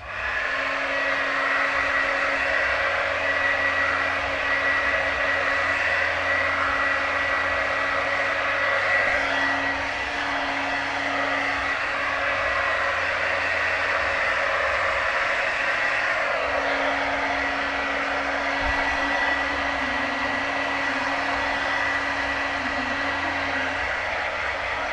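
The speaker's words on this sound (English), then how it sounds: "Then I start blow drying my hair" A hair dryer blows on hair with a steady, loud, continuous whir that holds an even level and never pauses.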